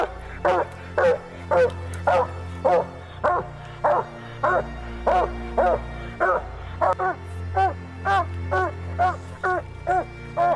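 A coon hunting dog at a UKC tournament barks repeatedly in a steady rhythm, about sixteen sharp chop barks that are close and loud, with no people talking.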